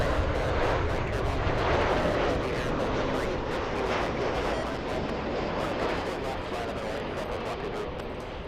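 A Virgin heavy jet airliner departs LAX bound for Heathrow, its broad, steady engine roar filling the scene loudly and continuously throughout.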